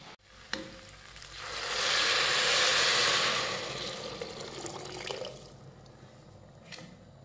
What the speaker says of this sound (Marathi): तर आता आपण घालूयात यामध्ये 3 वाट्या पाणी